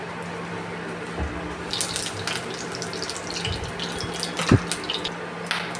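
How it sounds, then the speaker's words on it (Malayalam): Mustard seeds crackle in hot coconut oil while tempering for a mutton curry: a faint, steady sizzle with scattered sharp pops, one louder snap near the end, and no voices. "കടുകെല്ലാം പൊട്ടി വന്നിട്ടുണ്ട്."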